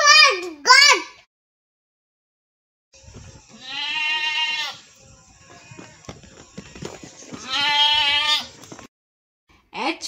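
A goat bleats twice in a children's phonics song, each call a loud, wavering, drawn-out cry separated by a few seconds of quieter sound, with a brief sung or spoken voice at the start and end.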